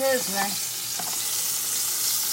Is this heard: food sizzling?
yes